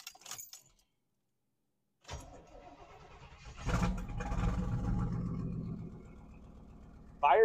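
Keys jangle after a brief silence, then a 35-year-old truck's engine cranks and fires right up, settling into a steady, healthy-sounding idle close by.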